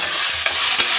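Onion and tomato fry in a pan while being stirred, a close, steady sizzle broken by two quick scraping strokes of the spoon.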